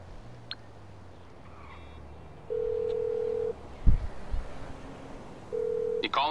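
A phone call is placed in GTA V Online: two steady electronic ringing tones about a second long, separated by a short pause and a brief low thump, with faint game ambience underneath.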